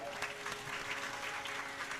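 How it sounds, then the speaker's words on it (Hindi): Applause from an audience at a Ram Katha recitation, a steady dense patter of many hands filling the whole stretch at even, moderate loudness, with no voice over it. "तालियां बड़ी कमजोर है,"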